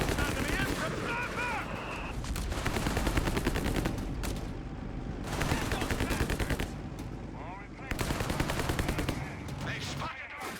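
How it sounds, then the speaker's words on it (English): Nebelwerfer rocket artillery fires a counter barrage in the strategy game Company of Heroes 3. It sounds as a loud, dense run of rapid bursts and explosions that pauses briefly, then resumes, with a commentator talking over it. "Here comes the Nebel counter barrage."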